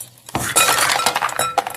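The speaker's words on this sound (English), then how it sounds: "dump the ice cubes in here" Ice cubes are dumped into a glass in one close, loud burst of clinking and rattling that settles into a few scattered clinks.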